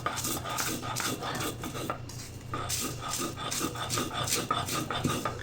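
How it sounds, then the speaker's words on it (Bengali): Dried red chillies and salt crushed on a stone shil-pata slab, heard as rhythmic back-and-forth rasping strokes, close and fairly even, with a brief pause midway and no speech. "এই কয়েকটা আইটেম দিয়ে শিলপাটার মধ্যে এখন বানিয়ে ফেলবো মজাদার বরবটির ভর্তা"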